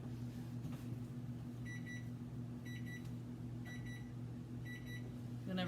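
Four evenly spaced double beeps from a kitchen timer while a chocolate cake bakes, sounding over a steady appliance hum in the kitchen.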